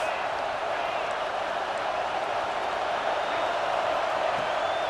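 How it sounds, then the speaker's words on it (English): A football stadium crowd at a Michigan game roars in a dense, steady wall of noise that holds at an even loudness throughout without breaks. "This crowd trying to make life miserable for this offense."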